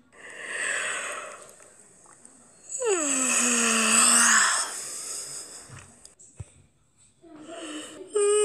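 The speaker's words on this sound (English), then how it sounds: "the letters yawn when they're feeling sleepy" A cartoon letter character gives a long sleepy yawn: a loud, drawn-out vocal sound that slides downward from high to low pitch over about two seconds, set among light music with other brief voiced sounds before and after.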